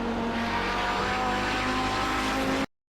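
A race-prepared Audi 90 GTO at Road Atlanta roars at a loud, steady engine pitch at close range, holding one continuous note for almost three seconds before cutting off abruptly.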